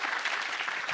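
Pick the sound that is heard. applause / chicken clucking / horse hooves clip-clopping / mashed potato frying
applause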